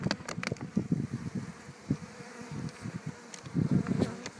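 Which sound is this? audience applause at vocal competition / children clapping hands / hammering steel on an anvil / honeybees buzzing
honeybees buzzing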